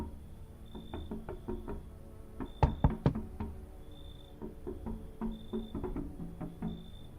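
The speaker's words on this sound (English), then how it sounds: "Who's knocking on my window?" Knocking on a window in a video game: a quick cluster of sharp raps in the middle, standing out over a quiet, steady game backdrop with no talking.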